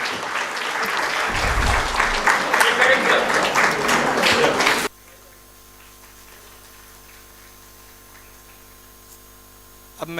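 An audience at a mushaira poetry gathering applauds loudly for about five seconds, then the clapping cuts off abruptly into a quiet electrical hum.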